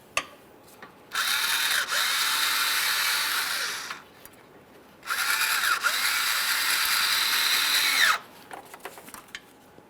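A screw-type hose clamp on the radiator hose of a 2013–2020 Ford Fusion 2.0L is tightened with a power driver, heard as two sustained, close whirring bursts of about three seconds each, separated by a short pause.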